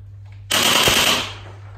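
An LH Kriss Vector V2 gel blaster fires one rapid, buzzing burst of gel balls that lasts under a second, loud and close, then tails off.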